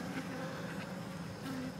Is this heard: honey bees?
yes